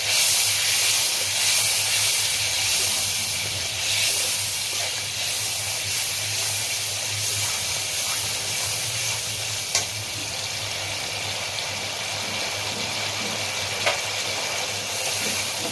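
Mustard paste sizzles steadily in hot oil in a pan while cooking shorshe ilish, hilsa fish in mustard sauce; a continuous close frying hiss that is loudest at the start and then settles, with no voices.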